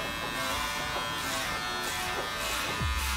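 Electric hair clippers with a number two guard buzz steadily and close up while cutting hair at the crown during a flat top haircut, a continuous whine with slight shifts in tone as they move through the hair.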